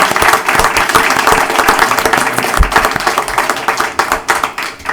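A room at a village board meeting breaks into steady applause, many hands clapping densely and close for several seconds, thinning slightly toward the end.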